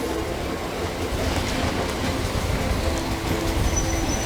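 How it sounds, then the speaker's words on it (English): A train creeping slowly at about five miles per hour through a flooded stretch of British railway, a steady rumbling roll with faint clatter and a thin high squeal near the end. "getting trains moving is a slow process. They're only allowed to run at 5 miles per hour"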